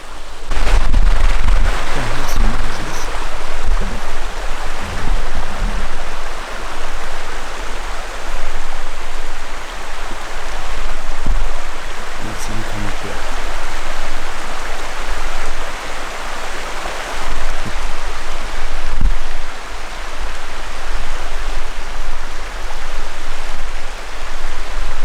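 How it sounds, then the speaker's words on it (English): A hot shower running indoors, giving a steady, dense hiss of spraying water that fills the whole stretch with only small shifts in level and no voices. "But I'm gonna have a shower now and then just go to bed."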